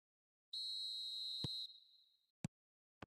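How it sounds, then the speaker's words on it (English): A referee's whistle starts the second half of a football video game with one clear, steady, shrill blast of about a second that trails off, followed by a few sharp isolated thumps, with no talking. "Whistle goes, and we start the second half."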